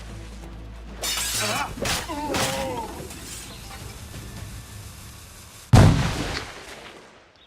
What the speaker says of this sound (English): Grenade loose!